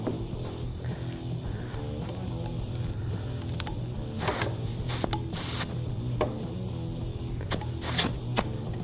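A steady pressurized hiss of gas flowing from a Bering tire repair kit inflator canister into a tire, with a few sharper bursts of hissing partway through.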